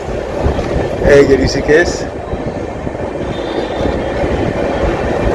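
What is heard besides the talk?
train arriving at Rishikesh station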